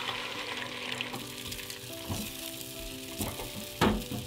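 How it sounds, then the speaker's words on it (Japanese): Beaten egg mixture sizzles steadily in a thinly oiled frying pan over medium heat, a continuous close crackle with a few brief louder clicks and pops, no voices. "卵液を注ぎます。"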